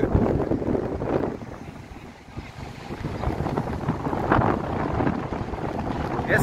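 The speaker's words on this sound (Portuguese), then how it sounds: "que o vento bate forte aqui" Strong wind buffets the microphone at the top of the Farol da Barra lighthouse, a steady rough roar with gusts that swell and ease, nearby and loud, with no talk.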